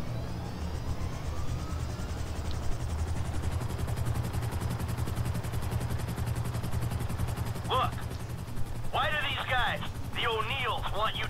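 A helicopter in Grand Theft Auto V drones with a steady, low, throbbing rotor and engine hum throughout, and short bursts of voice-like chatter rise over it near the end.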